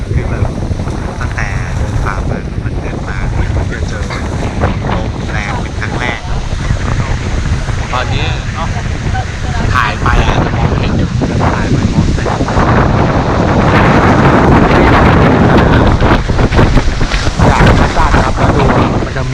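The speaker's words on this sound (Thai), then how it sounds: "ลมแรงมากครับ" Strong wind gusts across the exposed Pha Hin Kub cliff in Chanthaburi, Thailand, roaring loudly and continuously against the microphone with a dense rushing buffet that swells toward the end; a voice speaks faintly under it.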